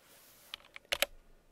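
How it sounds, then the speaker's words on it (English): A few quick keyboard keystrokes click up close, ending in a pair of sharper key presses, with quiet room tone around them. "I'm hitting keyboard shortcuts and getting different results."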